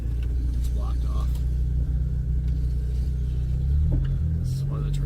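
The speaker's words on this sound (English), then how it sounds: "That's all the motor that's braking right there." A 2001 Jeep TJ engine braking downhill on an off-road trail, a low, steady droning rumble from the motor throughout, with people talking over it in the cab.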